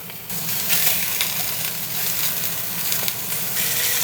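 Potatoes browning in a hot Dutch oven give a steady, close hiss and sizzle with fine crackles. It starts suddenly and stays even, with no talking.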